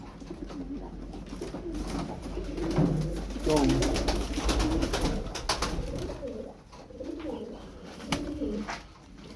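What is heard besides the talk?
crested çakmaklı pigeons cooing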